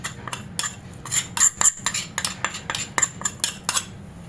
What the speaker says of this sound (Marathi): तेलाचं मोहन घातलं आहे हात भाजू शकतो त्यामुळे आधी चमच्याने आपण मिक्स करून घेऊया